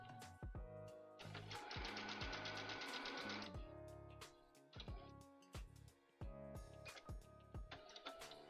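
Domestic sewing machine stitching down pleats on a black underskirt, running in steady rhythmic bursts with brief pauses between, close and clear, with small clicks and handling noises around it.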